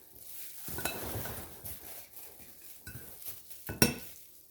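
A spoon stirs yeast into gluten-free pizza dough mix in a bowl, giving soft gritty scraping with intermittent clinks against the bowl and one sharp knock near the end.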